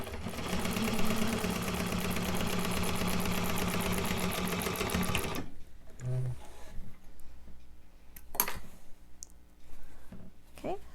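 A sewing machine top-stitches a fabric wristlet in a rapid, steady whir of stitches for about five seconds, then stops, leaving quiet handling clicks and small sounds close by.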